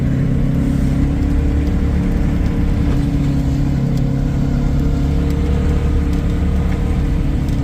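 A vehicle plows packed snow along a backyard trail at night, its engine holding a loud, constant low drone close by with no pauses and no talk.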